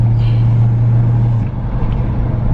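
A car being driven, with a loud steady low engine and road hum inside the cabin, its tone shifting slightly halfway through.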